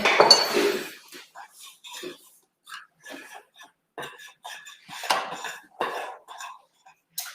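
A spoon stirs bicarbonate of soda into cookie dough in a home kitchen, making scattered soft scrapes and clinks against the bowl with pauses between strokes. A cough and a louder clatter come near the start.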